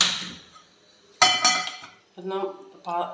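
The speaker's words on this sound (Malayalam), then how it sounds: "ഒരു പാത്രം അടുപ്പത്ത് വെച്ച് കൊടുക്കാം" A metal pot clanks onto a stove with a sharp ringing clatter, followed by a couple of scraping knocks; close and fairly loud.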